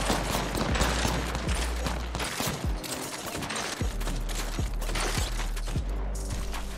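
Rapid gunfire bursts in the video game Apex Legends, repeated sharp shots crackling in quick volleys across the whole stretch, loud and close with little pause.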